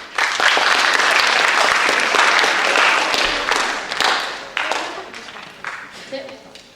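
An audience at an eighth grade step up day applauds a student presenter, a dense burst of clapping that fades out over several seconds.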